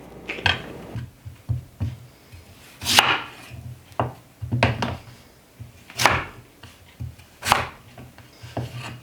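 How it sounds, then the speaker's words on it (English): A knife chops peeled sweet potatoes on a cutting board in a home kitchen, steady close taps in quick runs broken by louder scraping strokes, with no voices. "Once you've got your sweet potatoes all cut up, just set those aside."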